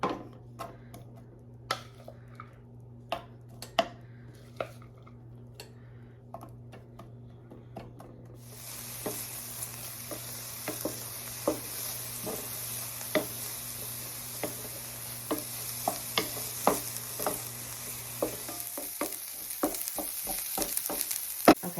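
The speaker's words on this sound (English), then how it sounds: "I am actually going to cook my veg first so it's nice and tender and has a little bit of caramelization on it" Vegetables frying and caramelizing in a pan, quiet at first with scattered clicks and a low hum, then a broader sizzle swelling in partway through, marked by frequent crackles and utensil taps.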